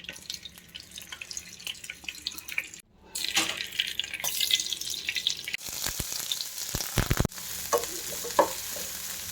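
Onions sizzle and crackle in a hot pan while frying for dum biryani, with intermittent stirring scrapes and a few abrupt cuts and clatters.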